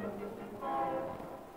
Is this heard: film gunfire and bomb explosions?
no